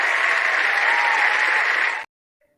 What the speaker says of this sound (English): really got the audience applauding quite a lot today